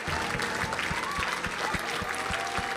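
A church congregation claps in a steady, even rhythm, loud and close, and the clapping continues without pause.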